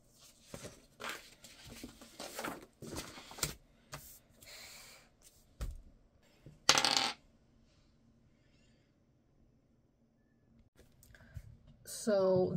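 Several plastic d20 dice clatter and tumble across a surface in quick bursts of sharp clicks, followed by a quiet pause and then another short rattle.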